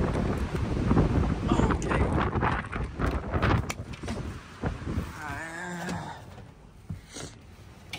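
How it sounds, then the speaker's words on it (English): Gusty wind buffets the microphone outdoors beside a small camper van in Japan, in strong rumbling bursts, easing off toward the end, with a brief whine in the middle. "It's windy."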